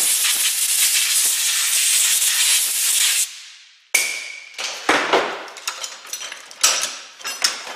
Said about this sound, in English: Brake cleaner will do its job.